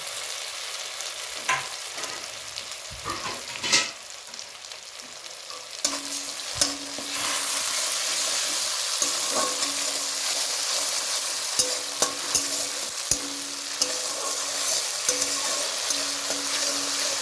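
Ginger, cumin and green chilli pastes frying in a pan for aloo dum, a bright crackling sizzle broken by repeated scrapes and clanks of stirring, growing louder and denser after the first few seconds.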